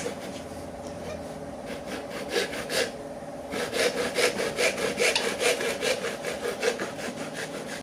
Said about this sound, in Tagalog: Madali lang itong putulin, gamitan lang ito ng lagaring bakal.